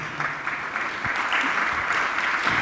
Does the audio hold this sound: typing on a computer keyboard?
no